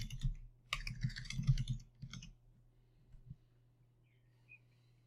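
Quiet, close keyboard typing comes in short clusters of quick keystrokes, then fades to a low hum with a few isolated taps.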